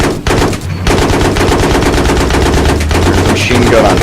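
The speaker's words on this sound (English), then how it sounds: "Machine gun on top of it" Vehicle-mounted machine gun in the video game Battlefield 3 firing a rapid, sustained burst of loud automatic shots, nearly continuous, with brief gaps early on.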